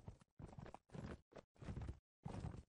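Horse hooves clip-clop in the video game Mount & Blade: With Fire and Sword, coming in six quick separate bursts of trotting steps that are close and clear with short silences between them.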